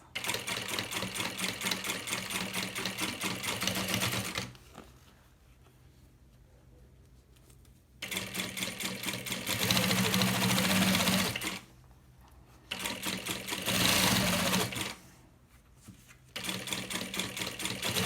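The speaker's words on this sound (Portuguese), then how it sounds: "eu costurei esse vivo com vocês, tô costurando ele" Sewing machine stitching piping onto a baby bag runs in steady loud bursts of several seconds each, separated by short quiet pauses.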